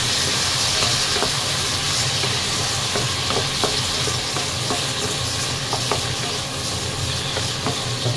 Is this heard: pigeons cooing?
no